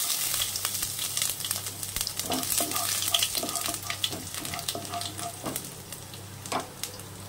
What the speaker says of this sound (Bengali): এবার দিয়ে দেবো আদা কুচি